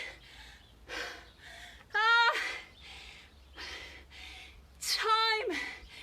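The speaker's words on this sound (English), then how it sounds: "You should be gasping for air" A person gasps hard for air after an intense bodyweight Tabata interval workout, two sharp rasping inhalations standing out among heavy breaths, close and breathy.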